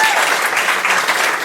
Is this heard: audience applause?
yes